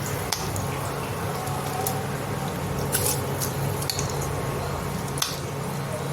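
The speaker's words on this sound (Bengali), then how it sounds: "জলের মধ্যে একটু পুদিনা পাতাও দিয়ে দিলাম, দিয়ে দিচ্ছি ইন্ডিয়া গেট ধুয়ে রাখা চালটা" Washed India Gate rice tipped into a pot of water with mint leaves for mutton biryani, giving soft squishy splashes and a few light clinks of utensils against the pot, close and fairly quiet.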